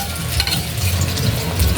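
A sardine omelette frying in a pan gives a loud, steady sizzle and crackle that runs without a break, close up and with no voices.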